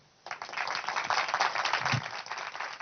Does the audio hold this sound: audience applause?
yes